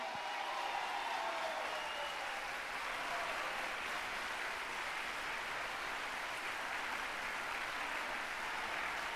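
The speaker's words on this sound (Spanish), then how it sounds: "También un fuerte aplauso para la banda que obtiene el segundo premio, la Chiquibán Dalimia" Audience applause for a youth band awarded second prize at a Galician band competition, a steady, fairly distant and faint wash of clapping sustained throughout.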